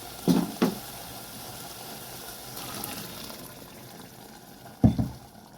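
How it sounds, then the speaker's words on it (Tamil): Ground masala paste drops into a pot of simmering mutton curry with a few soft, wet plops near the start and one more near the end, over a low bubbling background. "இப்போ நான் அரைச்ச மசாலா ஊற்றுறேன்"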